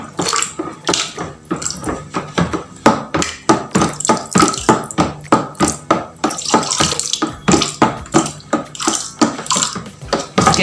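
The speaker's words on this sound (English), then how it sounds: "I'm pouring it and I'm mixing as I'm pouring." Caustic soda solution is poured into a liquid soap mixture and stirred at the same time, making a run of sharp, rhythmic sloshing and splashing strokes that repeat roughly every half second, close and fairly loud.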